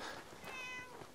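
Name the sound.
cat meowing in video game Fallout 4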